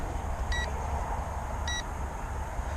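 An SG906 drone sounds two short, high electronic beeps about a second apart, thin and fairly faint over a steady outdoor background hiss.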